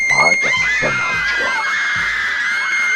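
Humming Girl, a character, lets out a powerful, piercing scream, loud and sustained with shrill wavering overtones, starting over a brief burst of shouting voices and holding steady to the end.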